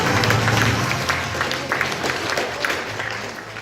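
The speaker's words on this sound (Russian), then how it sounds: "Аплодисменты нашему Алексею Романову." Audience at the closing ceremony of a film festival applauds a guest, a dense roomful of clapping that starts loud and slowly thins out over a few seconds.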